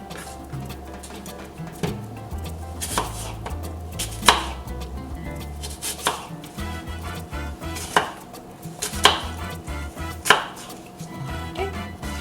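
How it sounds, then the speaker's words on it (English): A knife chops apples into small cubes on a cutting board, a steady run of sharp, close taps with a few louder knocks standing out, and no talking over them. "I like to chop them up into little cubies."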